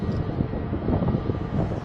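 Steady broadband roar of aircraft engines at Bristol Airport, continuous and fairly loud throughout with a low rumbling body and some wind buffeting on the microphone, no voices.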